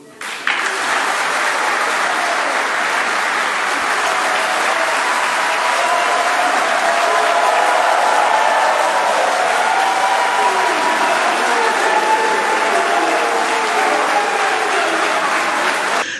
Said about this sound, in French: Ces annonces de haute portée sociale ont reçu une standing ovation de toute l'assistance